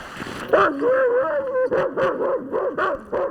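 Sled dogs (huskies) at a Denali sled dog demonstration in Alaska yip, whine and bark in a rapid, uneven series of close, fairly loud calls.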